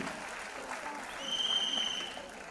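An audience at an Anganwadi awards function applauds as award winners come onto the stage, a soft, fairly distant wash of clapping that swells briefly in the middle, with a thin tone riding above it.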